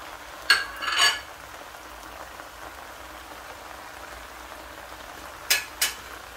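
Fajita rice is mixed in a hot pan over a faint, steady sizzle. A few brief spoon scrapes and clinks come in pairs at the start and end, with quiet stretches between.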